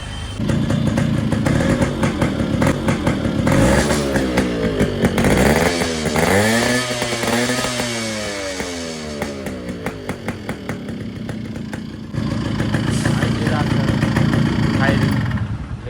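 A Yamaha motorcycle engine fires and revs close by, loud and continuous, its pitch sweeping up and down through the middle of the run before settling back to a steady rumble, with voices talking over it.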